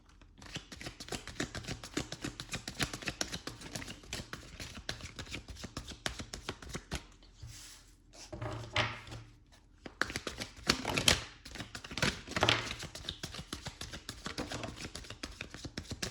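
Tarot cards being shuffled close up, a long run of quick riffling flutters and soft slaps with a couple of brief pauses between bursts.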